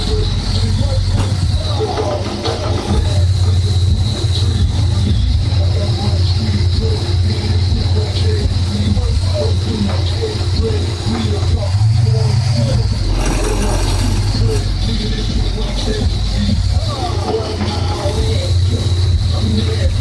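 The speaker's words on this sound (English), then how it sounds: "You can hear it actually drag the engine down when that low note kicks in, because the alternators are literally dragging down a fucking V8 engine." V8 engine loaded by custom dual alternators, idling with a steady low rumble that deepens and drags down when a low bass note kicks in; someone talks over it.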